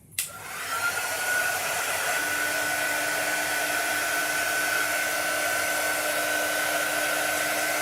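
A hair dryer blows steadily and loudly after a brief click on, used as a heat tool to dry chalk paste on a Chalk Couture Halloween craft project; a constant whooshing drone with a fixed motor whine, no talking.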